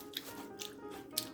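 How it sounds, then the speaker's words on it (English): Three sharp crisp snaps as teeth bite into a raw orange bell pepper, close and fairly quiet, spaced about half a second apart with faint chewing between. "So I'll eat this orange one right now. Yum. Got a nice snap to it."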